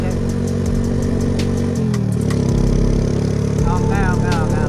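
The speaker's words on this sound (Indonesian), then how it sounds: "aku bawa motornya Mas Andre geng." A motorcycle engine runs close by during a test ride, with a steady low drone whose pitch shifts as it revs; a voice talks over it.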